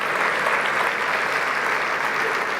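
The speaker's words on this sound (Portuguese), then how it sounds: "vamos dar uma salva de palmas, porque esse povo é vencedor" A church congregation applauds warmly in a packed hall, a dense, even wash of clapping that holds steady from start to finish.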